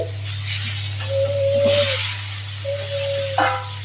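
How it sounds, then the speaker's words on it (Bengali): Spices with turmeric stir-fried together in a pan, a soft continuous sizzle with scraping stirs and a clink, over a steady low hum and a couple of high whining tones. "সব একসাথে মশলা ভালো করে কষিয়ে নেব"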